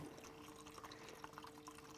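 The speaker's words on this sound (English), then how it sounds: "it's going to dispense water into the pitcher at 2 different flow rates" Water runs steadily at a low flow from an automatic dispenser into a pitcher, giving a faint, even trickle with light splashing and a thin tonal hum, without any speech.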